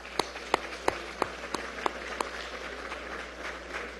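Faint applause in a session of Venezuela's National Assembly, opening with a few sharp, evenly spaced claps before settling into a soft, diffuse patter of hands.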